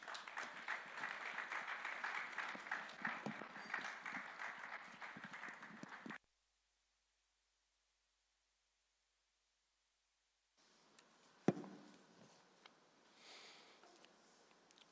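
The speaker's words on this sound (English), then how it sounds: "round of applause." Audience applause at a real estate summit, a dense wash of clapping for about six seconds that cuts off abruptly, followed by silence and then faint room noise with a single loud thump.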